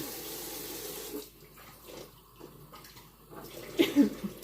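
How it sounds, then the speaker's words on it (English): Water runs from a kitchen tap during baking, a steady hiss that thins and gurgles partway through as the flow changes, with faint handling sounds near the end. "I'm just putting the water in right now"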